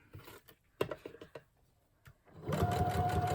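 Sewing machine stitching paper craft tags: a few faint clicks and handling taps, then the motor starts up near the end with a quick, even run of stitching.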